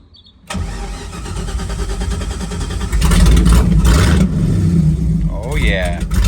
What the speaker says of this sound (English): Cold start with the fresh battery.